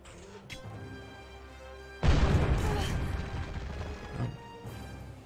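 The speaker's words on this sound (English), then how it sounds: "Explosion. Rude." A sudden booming explosion bursts out in the PS2 video game Gladius, a loud crash with a rumbling tail that slowly fades over a few seconds against quiet game music.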